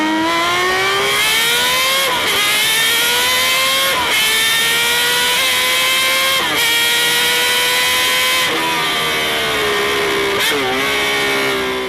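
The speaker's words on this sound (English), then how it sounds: "the inline 6 is extremely potent in the CBX and is very smooth, has a very unique exhaust note" A Honda CBX motorcycle's smooth inline-six engine revs repeatedly, its car-like exhaust note climbing and dropping in several loud, close bursts.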